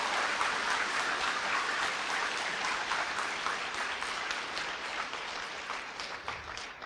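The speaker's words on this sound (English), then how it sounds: "Again, let us welcome with grand applause." Large indoor audience at a talk giving sustained applause, a dense, even wash of clapping that stays steady before fading slightly at the end.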